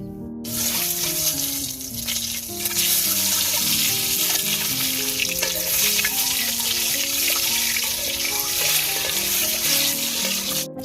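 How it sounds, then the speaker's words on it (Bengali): Peeled boiled eggs fry in white oil in a wok for egg korma, giving a loud, continuous close-up sizzle and spatter that holds steady throughout. "আমার ডিম ভাজা হয়ে গেছে"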